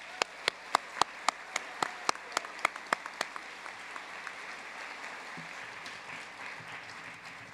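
A small round of clapping for doctoral graduates at a spring commencement ceremony: about a dozen sharp, distinct claps ring out near the microphone over a soft crowd patter, then die away into quiet room ambience.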